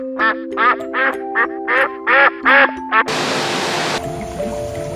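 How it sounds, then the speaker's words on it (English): Eight loud, close duck quacks in a quick rhythmic series, followed by a burst of steady rushing noise, played at a FIRST Tech Challenge robotics season kickoff event. "hope this duck's in this game"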